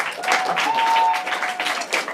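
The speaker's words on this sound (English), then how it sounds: "Clap your hands for her. She's going to try it." An audience at a youth leadership event applauds a volunteer about to try a drum rudiment, a dense burst of clapping filling the whole moment with a faint steady tone beneath.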